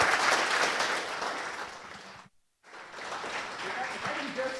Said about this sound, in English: let's give them another round of applause then